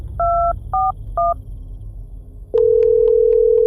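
A telephone call: three quick keypad dialing tones beep in a row, then after a short pause a loud, steady line tone sounds and continues unbroken on the unanswered call.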